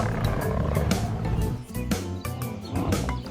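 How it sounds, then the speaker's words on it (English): A lion in a children's animal-sounds lesson lets out a loud, close roar laid over rhythmic background music, with no talking during it. "The lion says roar."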